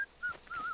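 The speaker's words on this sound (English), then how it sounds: "He's just sitting out here whistling." A man in Kingdom Come: Deliverance II whistles a brief wavering tune, a thin clear pitched line broken by a short gap, set against quiet game ambience.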